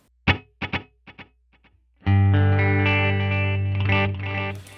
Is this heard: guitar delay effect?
yes